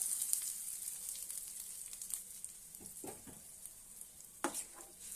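Hot tempering is stirred into bottle gourd chutney in a pan, giving a faint, soft sizzle under a few quiet scraping strokes and light clinks of a spoon.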